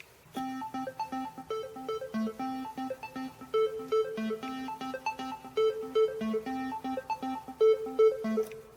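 A Yamaha PSR keyboard plays a bright, repeating melodic pattern through delay, flanger and phaser effects, notes ringing in a clean rhythmic sequence with echoing tails and no talking.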